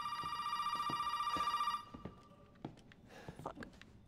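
A telephone bell rings in a steady, pulsing trill for nearly two seconds, then stops, followed by sparse thumps and footstep-like knocks in a quiet room.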